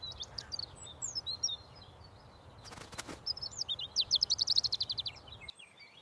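A bird in a cartoon story chirps in bright, rapid trills and tweets, with a brief flutter of wings midway and a longer run of quick repeated chirps toward the end, over a low background hum.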